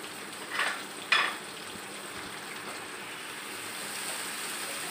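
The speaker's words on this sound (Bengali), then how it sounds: "এখানে কিছুটা পেঁয়াজ, রসুন কুচি, আদা কুচি, বেশ কয়েকটা কাঁচা মরিচ, একটুখানি লবণ দিয়ে মাছের সাথে এটা আরেকটু আমি ভেজে নিব" Fish frying with onion, garlic, ginger and green chilies sizzles steadily in a pan, a soft continuous crackle with two brief louder stirring or scraping bursts early on and no talking.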